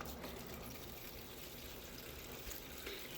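Water runs steadily into a dog's bowl from a tap, a continuous close gushing fill that holds an even level throughout, with no voices.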